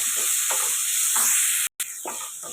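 Tomato sautéed with eggplant and drumstick in a pan for a poriyal, a loud continuous sizzle with rhythmic stirring scrapes and a brief break partway through.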